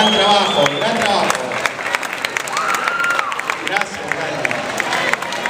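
An audience at a cosplay presentation during Lima Comics 2011 breaks into sustained, loud applause mixed with cheering and crowd babble, with a voice speaking over it.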